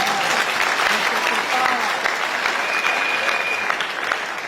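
A church congregation claps together in steady, dense applause that stays loud and close throughout, with a few voices mixed into the crowd.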